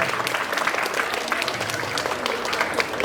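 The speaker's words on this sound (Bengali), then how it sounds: "করতালি হোক" Dense, steady applause from an audience at a staged event, sustained clapping that fills the room without a break.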